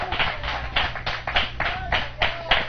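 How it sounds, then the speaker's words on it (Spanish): A church congregation gives the Lord a loud round of applause, dense clapping surging in several waves over a steady crowd wash, with a voice faintly audible underneath. "Dele fuerte aplauso al Señor por eso."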